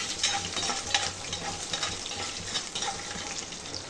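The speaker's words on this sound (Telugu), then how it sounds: "ఒక మూడు పచ్చిమిర్చి ఒక రెండు ఎండుమిర్చి కరివేపాకు వేసుకోవాలండి ఇవన్నీ ఫ్రై చేసుకోవాలి" Green chillies, dry red chillies and curry leaves fry in hot oil for a raw mango recipe, giving a steady close sizzle with scraping stirs of a spoon throughout, no talk.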